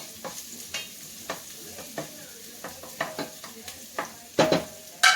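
Half a medium onion sizzles in a pan while a wooden spurtle scrapes and stirs it in a rhythm of about a dozen separate strokes over a quiet frying hiss, ending with a couple of louder clatters.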